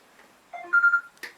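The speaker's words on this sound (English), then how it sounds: "sorry about that phone ringing in the background." Telephone ringing faintly in the background of a quiet room, a short electronic warbling tone burst followed by a brief click.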